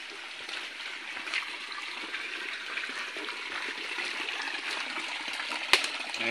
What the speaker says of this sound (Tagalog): Malinaw po ang daloy ng tubig dito.